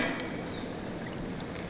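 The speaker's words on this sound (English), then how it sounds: "I hit that button up there, and I heard liquid pour" Liquid pours into a canister inside the Neyyah video game, a soft, steady hiss and trickle of flowing liquid heard quietly and without interruption.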